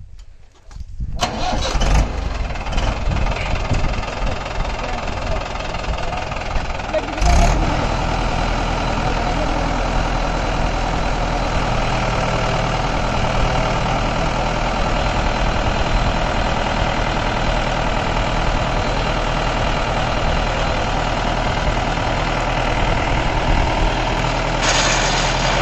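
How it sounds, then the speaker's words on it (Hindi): A Mahindra 475 Bhoomiputra tractor engine fires up and runs a 6-foot rotavator, loud and close, with a brief start, a surge a few seconds in, then a heavy, steady diesel drone that holds for the rest of the stretch. "ट्रैक्टर जो है भाई क्या कहूँ, बहुत बढ़िया चल रहा"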